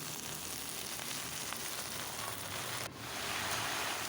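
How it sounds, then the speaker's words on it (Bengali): Greens dropped into a pan of frying onion and garlic give a steady, loud sizzle like rain, with a brief dip as the leaves land, and no talking. "এখন আমি শাক দিয়ে দিচ্ছি।"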